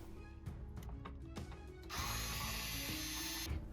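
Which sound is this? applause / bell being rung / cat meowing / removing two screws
removing two screws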